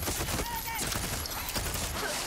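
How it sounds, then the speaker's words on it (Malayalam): Rapid gunfire bursts from the video game Far Cry 6 crackle through the whole stretch, dense and loud, with a voice faintly present underneath. "നിങ്ങൾക്ക് വെടി വരുന്നുണ്ട്"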